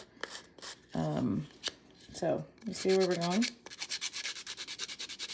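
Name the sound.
sanding with a nail file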